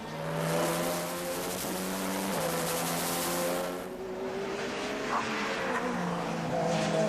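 Opel number 9 DTM touring race cars on a 1995 circuit, engines droning steadily with shifting harmonic pitch as cars run close by, a loud continuous multi-car roar with a brief dip midway, no talk.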